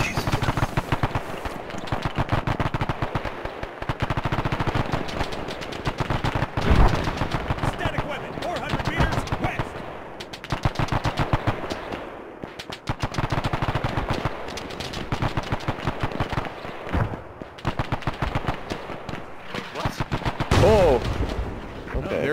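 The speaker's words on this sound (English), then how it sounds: "The artillery." Dense, continuous gunfire and heavy artillery in the ARMA 3 military shooter, set in the Pacific Solomon Islands: sustained rapid bursts and booms fill the whole stretch with few lulls, loud and chaotic.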